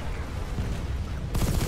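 Submachine gun fire in a sci-fi shooter game: a steady, dense rattle of rapid shots that grows louder and sharper over the last moments.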